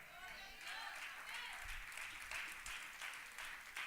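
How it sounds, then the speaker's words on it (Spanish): Church congregation claps in praise at a Spanish-language evangelical service, a fairly faint, steady patter of many hands with a speaking voice audible over it. "Dale fuerte el aplauso al Señor."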